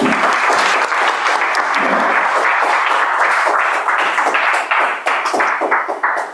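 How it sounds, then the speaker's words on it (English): Sustained, loud audience applause fills a Toastmasters pre-charter meeting, dense clapping running steadily with no speech over it. "Please continue your applause for the grammarian of the day, Toastmaster Wasim."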